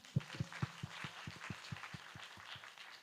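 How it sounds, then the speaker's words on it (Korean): Church congregation during a worship service claps in a steady rhythmic beat, a string of evenly spaced soft claps with low thumps, fairly faint and fading slightly, with no speech over it. "우리를 이끄시고 또 앞으로도 행하실 주님께 영광의 박수 올려드립니다"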